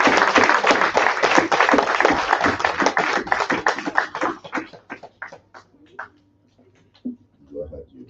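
Church congregation applauding together, dense clapping for about four seconds that thins into scattered claps and dies out, with voices and a speaker heard as it fades.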